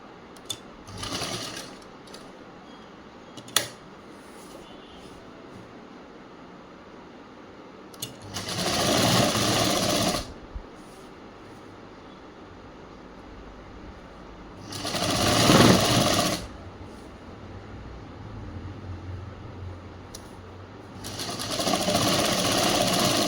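Several bursts of a sewing machine stitching a chudi top, each lasting a couple of seconds and separated by quiet pauses with small handling clicks, the motor buzzing close and fairly loud.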